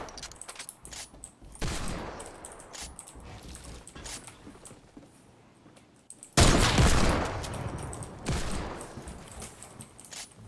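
Sniper rifle gunfire in a first-person shooter video game match, several loud shots spaced seconds apart, each a sharp burst with a short tail, over faint background game noise.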